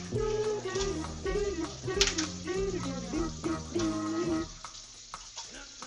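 Mussels frying in olive oil for a fideuà, with steady sizzling and stirring noises close by, while someone talks over them for most of the stretch.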